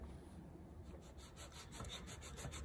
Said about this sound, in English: So what I'm doing now is just sanding off a little bit of each side of my long walls